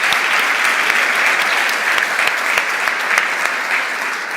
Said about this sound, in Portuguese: Uma salva de palmas para vocês que não são fiadores.